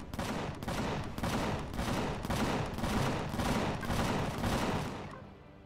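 A ship in Empyrion fires a rapid, steady series of about a dozen evenly spaced blasts, a rhythmic mechanical barrage of moderate loudness that tapers off at the end.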